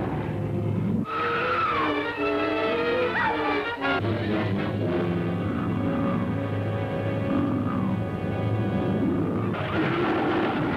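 A car skids in a film scene, tires squealing in long wavering whines over a low engine rumble, loud and close, sustained for most of the stretch with a brief break near four seconds before the shriek resumes and cuts off.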